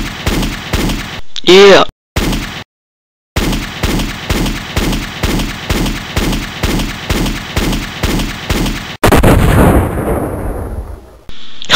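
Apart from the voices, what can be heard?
gunfire in Halo video game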